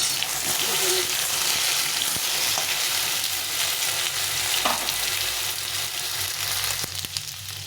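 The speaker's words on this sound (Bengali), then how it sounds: "আমি আলু আর কচুটাকে প্রথমে একটু ভালো করে ভেজে নেব" Potato and taro pieces fry in a pan, a steady dense sizzle running throughout with occasional stirring scrapes and clinks, fairly close.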